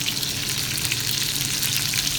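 Meatballs fry in a pan over low heat, giving a steady, close crackling sizzle with a faint low hum underneath and no voices during the clip.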